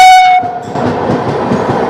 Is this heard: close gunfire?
no